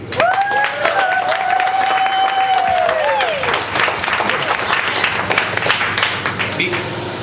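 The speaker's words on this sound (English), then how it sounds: "just can we clap again for Cafe Gratitude?" A crowd applauds loudly and steadily for Cafe Gratitude at a talk, dense clapping throughout, with a whistle or whoop rising over it near the start.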